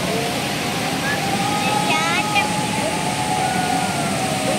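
Hogenakkal waterfall roars as a broad, steady rush of water, loud and continuous across the whole stretch, with faint voices in the background.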